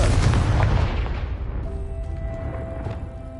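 A Confringo fire spell bursts in the video game Hogwarts Legacy: one loud, close blast with a deep rumbling boom that fades into a crackling tail, no talk over it.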